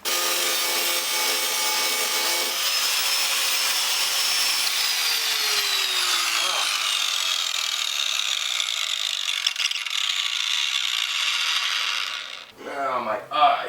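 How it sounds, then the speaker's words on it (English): A grinder works steadily against a protruding metal lip, a loud, continuous close whine and rasp that shifts in pitch, then stops near the end, followed by brief rustling and a short voice. "So I need to grind that back until it's flat pretty much."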